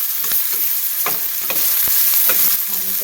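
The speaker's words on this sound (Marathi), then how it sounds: "नंतर मी कांद्यासोबत फुलगोबी ही परतून घेणार." Cauliflower and onions sautéing in a pan for egg bhurji, a dense steady sizzle with a few scraping stirs of the spatula cutting through.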